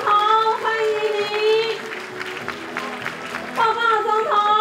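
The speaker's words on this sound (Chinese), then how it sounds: "我们用最热烈的掌声欢迎总统" Audience applause greets the president at the 2015 opening ceremony of Taiwan Railway's new Keelung station. A burst of clapping rises in the middle, framed by a voice over a PA before and after.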